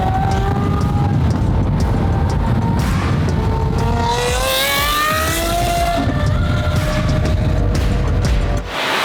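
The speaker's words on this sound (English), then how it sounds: "you guys can obviously hear the beautiful sights and sounds that is the straight pipe SVJ with the new livery" Lamborghini SVJ with a straight-pipe exhaust and new livery, its loud engine rising in pitch through several revs and passes, sharp and raw, with one brief boom near the end.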